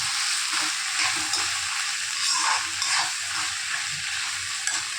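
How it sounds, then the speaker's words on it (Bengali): Chickpeas fry in a pan while being stirred, a constant loud sizzle broken by repeated scraping and clinking strokes, close by. "তোমরা দেখতে পাচ্ছ একদম সুন্দর করে নাড়াচাড়া করে নিচ্ছি।"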